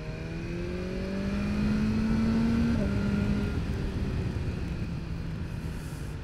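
A BMW S1000R motorcycle engine hums steadily while riding in the rain, a loud, sustained drone with a slowly rising then easing pitch under wind rush, with no talking.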